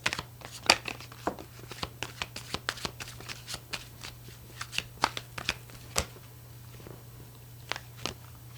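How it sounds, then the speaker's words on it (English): A deck of tarot cards is shuffled by hand, giving a close series of irregular papery riffles and snaps spread over several seconds, with a low hum underneath. "They said shuffle them up, see what happens."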